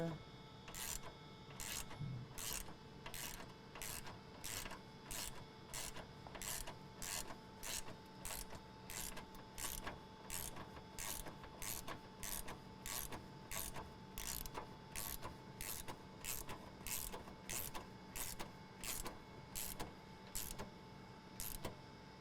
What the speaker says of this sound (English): put the ratchet on the back side and tighten